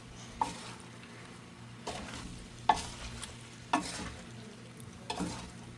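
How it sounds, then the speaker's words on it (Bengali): Spicy pasta with tasting salt being stirred in a pan, a quiet background sizzle broken by several distinct scraping and tapping strokes of the spoon against the pan, close and without talking. "এখন আমি আবারও নেড়ে চেড়ে এগুলো মিশিয়ে নিচ্ছি"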